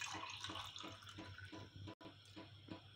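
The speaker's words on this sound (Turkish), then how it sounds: "Kekimizin sosu için 1 su bardağı sütümüzü cezvemize alalım." A cup of milk is poured into a small Turkish coffee pot (cezve) for a moist cake's sauce. The liquid pours steadily and continuously up close, with a brief break midway and no talking.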